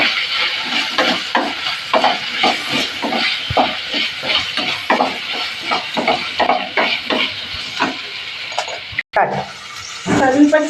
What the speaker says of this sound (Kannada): ಇದು ಫ್ರೈ ಆಗಬೇಕು ಕ್ಯಾಪ್ಸಿಕಮ್ ಈರುಳ್ಳಿ.